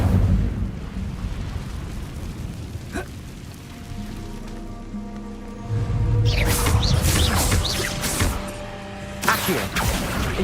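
Fire spell cast in Hogwarts Legacy, a loud roaring burst with crackling and rumbling that swells midway and rolls on, mixed with game effects and booming impacts.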